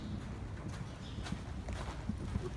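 Hoofbeats of a trotting horse during a riding lesson: soft, rhythmic thuds in a quick even pattern, faint and somewhat muffled, with no voices.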